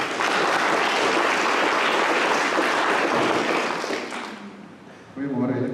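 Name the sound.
church congregation applauding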